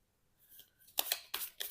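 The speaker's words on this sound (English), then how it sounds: "we'll also shuffle rest of the decks" A deck of tarot cards is shuffled close up: a soft sliding rustle first, then several sharp riffling bursts of card edges flicking together, with no talking.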